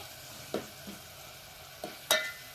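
Brinjal curry frying in a pan over a medium flame, a faint sizzle with a few soft scrapes of stirring at scattered moments, quiet and close.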